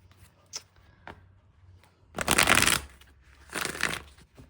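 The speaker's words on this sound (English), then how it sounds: "I'm going to pull some tarot cards" Tarot cards being shuffled by hand, two crisp riffling bursts close to the microphone separated by a short pause, with a few light taps and card handling sounds around them in an otherwise quiet room.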